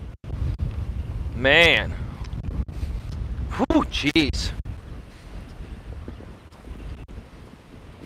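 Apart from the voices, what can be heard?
strong wind blowing into the microphone outdoors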